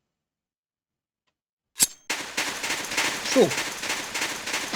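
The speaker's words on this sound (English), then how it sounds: "the rocket and the rocket launcher there doesn't disappear as you fire" Rocket launcher fired in Soldier of Fortune II: after silence, one sharp loud blast, then a sustained roaring whoosh of the rocket with a brief rising whistle partway through, close and continuous to the end.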